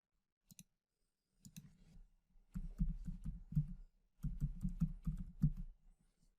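Keystrokes on a computer keyboard entering a password, a pair of light clicks followed by bursts of rapid, close-up tapping in two runs with a short pause between, no voices.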